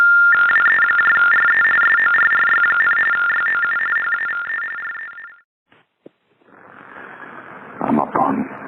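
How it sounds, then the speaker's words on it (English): Steady electronic telephone network tones from a payphone follow a disconnected-number recording, loud and continuous for about five seconds. They cut off into a brief gap, then New York City street noise rises near the Triborough Bridge. "The following tones are for the hard of hearing."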